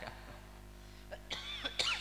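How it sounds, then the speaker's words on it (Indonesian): A few short, raspy coughs break out in a quiet room, spaced irregularly, the last ones louder and closer together. "eta batuk euy"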